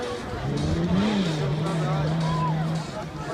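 Off-road race cars compete at a Trabzon off-road race, with one engine droning steadily at mid-distance under voices talking throughout.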